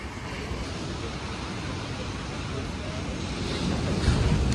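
Ocean waves and surf rolling in at high tide, a steady broad wash of water mixed with wind buffeting the microphone, growing slightly louder toward the end.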